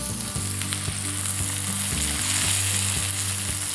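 Pork chop searing in a hot pan, pressed down against the surface: a steady, loud, close sizzle and crackle running the whole time, with low rhythmic pulses and no voices.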